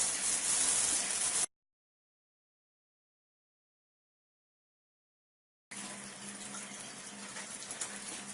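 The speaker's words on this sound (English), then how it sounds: "the water ionizer has been flushed with the water running from the faucet through the machine and into the sink" Water rushes steadily from a faucet through a water ionizer into a sink, a broadband gushing flow, broken by a long silent gap before the running water resumes just as loud.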